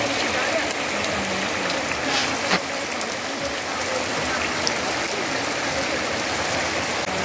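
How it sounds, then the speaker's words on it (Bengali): Steady rain falls outside a village home beside a guava tree, a continuous broadband hiss with a few brief ticks, fairly close and unbroken for the whole stretch. "চলে এসো, বৃষ্টি পড়ছে"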